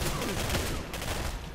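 Rapid shotgun gunfire bursts in the shooter game Singularity, loud and dense with overlapping blasts throughout a short stretch.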